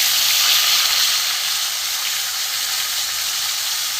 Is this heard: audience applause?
no